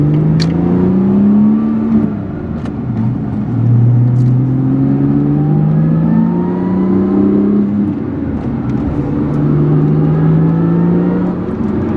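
A Lotus Evora S with a manual transmission revs repeatedly on a test drive, heard from inside the cabin as a steady engine drone rising and falling in pitch through several gear pulls.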